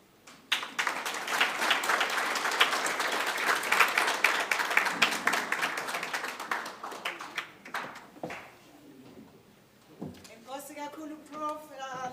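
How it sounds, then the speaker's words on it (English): A conference audience applauds Prof. Masego with dense, sustained clapping that slowly thins out, followed by a speaking voice near the end. "Let's give Prof. Masego another big round of applause."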